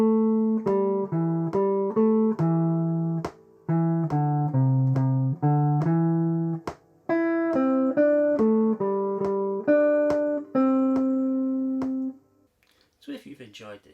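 A guitar plays a short sight-reading piece, a series of clear plucked single notes with some held tied notes, steady moderate tempo, close and alone, ending in a brief rustle.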